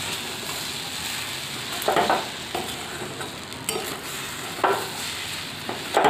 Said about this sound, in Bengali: এবার ভালো করে মিশিয়ে নেব।